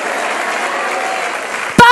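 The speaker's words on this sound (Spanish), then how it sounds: "Dale un fuerte aplauso al Señor." A church auditorium audience claps steadily, a dense wash of applause that holds throughout, ending with a short voiced shout.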